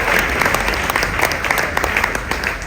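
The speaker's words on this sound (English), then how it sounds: "Let's give him a round of applause." Audience applause at The Moth storytelling awards event, dense sustained clapping from a large crowd, loud and continuous.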